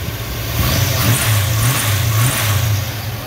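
A 1970 Chevrolet Monte Carlo SS with a 454 V8 runs loud and close, its deep, steady idle lifting in small, rhythmic revs throughout.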